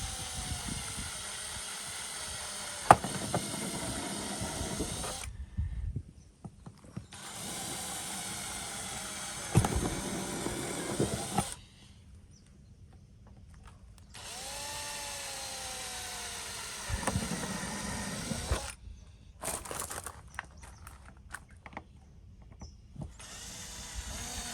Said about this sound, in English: Drill holes on all your black dots.